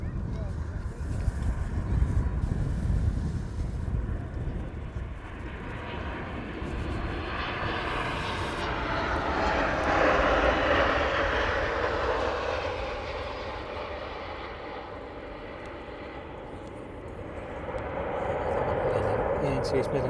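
Passenger jet arriving at East Midlands airport on a flight from Malaga, its engine roar swelling as it passes, then fading and building again, steady and moderately distant across twenty seconds, with a voice talking over it.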